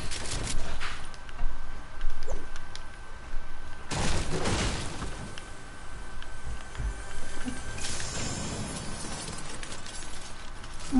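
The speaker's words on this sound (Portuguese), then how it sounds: "estou a ouvir tiros do nada" Gunfire in a video game comes as scattered bursts of shots and booms, loud and close, over a constant dense background mix.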